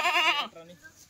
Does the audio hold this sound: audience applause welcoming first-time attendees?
no